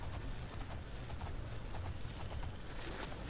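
Horse hooves clop at a steady walking pace in The Elder Scrolls IV: Oblivion, a soft rhythmic patter over a faint, hissy background.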